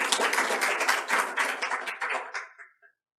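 An audience at a Korean research forum gives a dense, steady round of clapping to welcome a speaker. The applause runs for a few seconds, then tapers off and stops.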